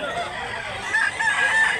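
A fighting rooster crows nearby at a gamefowl sale, one drawn-out call rising over soft background clucking from other fowl.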